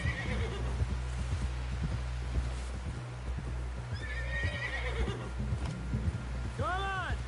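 A horse in Red Dead Redemption 2 whinnies near the end after steady clip-clop hoofbeats, with an earlier softer neigh and voices talking over the riding.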